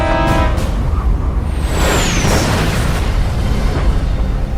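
A massive explosion as the main powder magazine of the warship HMS Hood ignites, a deep sustained roar with a falling whistle, loud and dense throughout.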